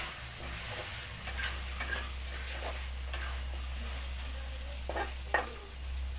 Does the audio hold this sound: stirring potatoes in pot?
yes